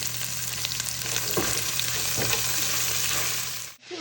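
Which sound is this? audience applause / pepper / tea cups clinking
pepper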